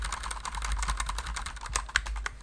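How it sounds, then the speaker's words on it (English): Keys clatter on a computer keyboard in an irregular run of quick close taps, a short burst of steady typing with a couple of sharper keystrokes and no talking. "let's type something."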